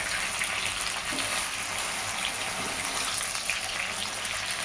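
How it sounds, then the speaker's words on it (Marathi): Eggplant slices frying in oil in a pan over medium heat, a steady, close, hissing sizzle that holds at an even level from start to finish, with no voices. "संपूर्ण वांग तेलामध्ये नरम होत आहे."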